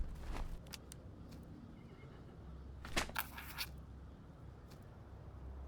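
Horses whinnying in the Master of Command strategy game, with a few short bursts and one louder cluster in the middle over a low steady rumble, faint overall.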